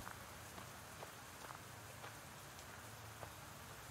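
Steady rain falls in a video game scene, a soft, even hiss of drops with faint scattered pattering, quiet and unbroken with no voices.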